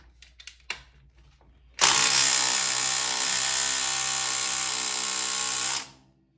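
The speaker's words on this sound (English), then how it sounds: "I'm gonna try if the 3/8 small Dewalt 12 volts removes them" A small DeWalt 12-volt 3/8-inch impact wrench tries to loosen stubborn fasteners. A few light clicks and taps come first, then one loud, continuous rattling hammer burst of about four seconds that stops abruptly. No one speaks.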